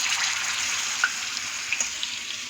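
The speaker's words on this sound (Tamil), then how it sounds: "இப்போது தவாவில் நல்லா எண்ணெய் காஞ்சதுக்கப்புறம் இந்த மீன் ஸ்லைஸில் ஒன்று ஒன்றா எடுத்து அப்படியே மெதுவாக" Fish slices fry in hot oil on a tawa, a soft continuous hiss and sizzle with occasional small pops and crackles, fairly quiet and steady with no voices.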